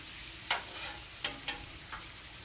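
Teriyaki chicken and vegetables sizzle in a stir fry, a faint, steady frying hiss broken by four sharp clicks of a utensil against the pan, with no talk.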